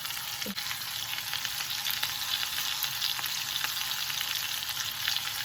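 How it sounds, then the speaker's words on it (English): Marinade-basted Korean skirt steak sizzles steadily on a grill, a continuous bright hiss with faint crackles and a soft scrape near the start, close and fairly loud with no voices. "Now to this we're going to go ahead and baste it with the marinade that we prepared."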